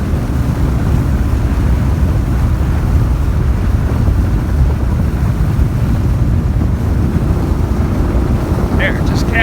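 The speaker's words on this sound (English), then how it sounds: "Listen for the motor to cavitate." A boat driven by an Evinrude ETEC 150 HO outboard with a 24-inch pitch prop runs at speed on a Michigan lake. Loud wind buffeting and water rush mask the steady engine roar throughout, with no obvious cavitation break.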